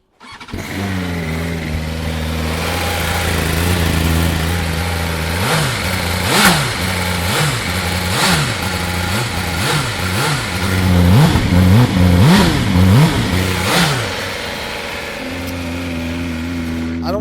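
A BMW scooter engine idles steadily up close, then is blipped through a rapid series of short revs before dropping back to a smooth idle.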